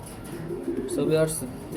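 Pigeons coo softly and closely, a short throaty burble rising and falling over a steady background hum.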